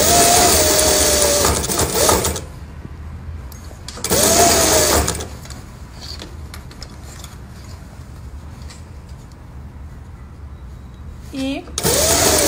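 A sewing machine stitches the princess seam on the back of a vest in loud, close bursts of rapid whirring. Quieter stretches between the bursts carry a voice speaking.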